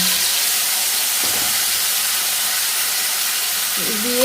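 Cut potatoes and tomatoes hiss and sizzle steadily in hot oil in a frying pan, a constant loud broadband frying noise with brief stirring scrapes and a short hum of voice near the end.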